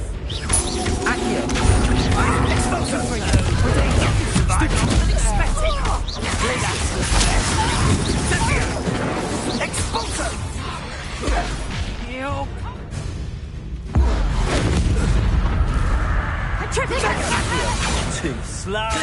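A Confringo fire spell explodes during a duel in the video game Hogwarts Legacy, with crashing impacts and whooshing magical bursts packed among other loud combat effects, voices shouting over the action.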